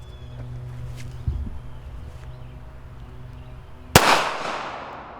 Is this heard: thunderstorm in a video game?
no